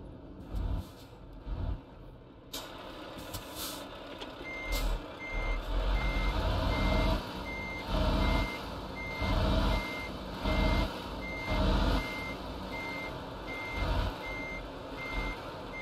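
A truck in Euro Truck Simulator 2 reversing, steady evenly spaced backup beeps over a low rumbling diesel idle, with a hiss of air brakes near the start.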